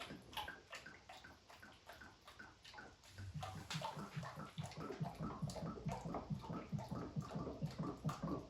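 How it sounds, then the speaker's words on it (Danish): Liquid poured steadily into a sculpture kit mould held on its side, a continuous gurgling, sloshing stream that grows fuller and more rhythmic partway through, close by with no talk. "Og så begynder man at hælde."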